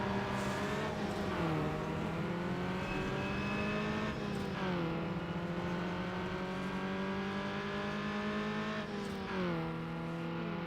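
Street-racing engines in Need for Speed Underground, a Honda Civic nearby, drone loud and steady throughout, with repeated upshifts sweeping the pitch up and dropping back in a continuous high-revving roar.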